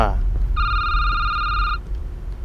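A bright electronic telephone ring in the video game Security Booth sounds once for about a second, steady and synthetic, over a low rumbling background.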